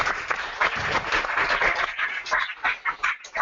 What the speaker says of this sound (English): Can we all please give Lilly a round of applause?